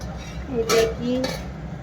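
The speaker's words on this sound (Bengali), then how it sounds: "থালাটা খুলে কতটা হয়েছে দেখুন, সবজিটা কতটা হয়েছে দেখি।" A metal plate used as a lid is lifted off a pan of paneer and peas curry, giving two short metallic clinks about half a second apart over a low background hum.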